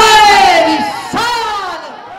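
A large crowd at a Mashal Bardar Islamic procession chants religious slogans in unison, two loud, drawn-out collective shouts close by, the second rising sharply before fading.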